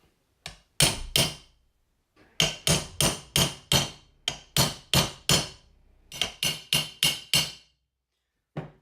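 Metal hammer blows drive a wheel bearing into a BMW R80 motorcycle swingarm, about eighteen sharp, ringing strikes in quick clusters separated by short pauses, close and loud with no talk.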